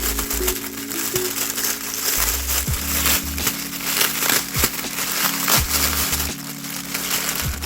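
Plastic wrapping on a Krafty Butterfly artisan set crinkles and rustles steadily up close while it is unwrapped, with sharp crackles and crunches scattered throughout and no voices.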